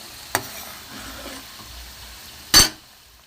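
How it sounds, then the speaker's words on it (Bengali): Carrot and prawn pitha frying in hot oil: a steady low sizzle throughout, broken by two sharp utensil clacks against the pan. "এইভাবে আমি সব কটা ভেজে নেব।"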